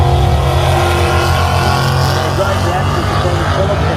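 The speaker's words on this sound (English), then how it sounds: "Come on, give it a rev." Drag racing car engine at a street car shootout drag strip, a loud steady rumble and rev held throughout, with voices talking over it.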